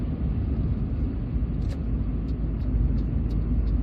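A 1998 Nissan Primera P11 2.0 GX automatic drives along with a steady, loud low rumble of engine and road noise heard from inside the cabin, plus a few faint ticks.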